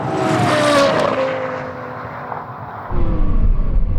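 Porsche Carrera GT and Lexus LFA V10 sports cars drag racing: loud, high-pitched engines wail at full throttle, then a deeper roar swells in near the end. No talking.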